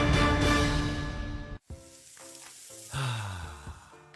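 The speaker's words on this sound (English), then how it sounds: "That's the sound of James adding long-lasting Gain scent boosters to his laundry this morning" A dense, hissing rush of Gain scent booster beads poured into laundry, then a brief pause followed by scattered light rattles and clicks.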